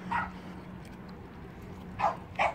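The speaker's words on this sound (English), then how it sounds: "As you can hear, there's quite a few small dogs in there" Several small dogs yip and bark in a dog park, a few short distant barks at the start and end over a steady outdoor hum.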